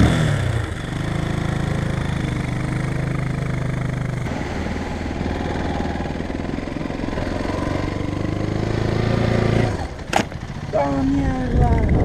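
A 250cc Ronco X-Terra motorcycle engine runs loudly and steadily for several seconds, revving and straining while stuck on a beach, then cuts off abruptly near the end.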